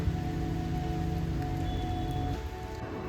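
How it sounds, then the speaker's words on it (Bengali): Rain falls steadily in a monsoon-season downpour under dark clouds, making a constant close hiss and patter. A faint tonal hum runs beneath it. No voices are heard. "ভালোই বৃষ্টি হচ্ছে"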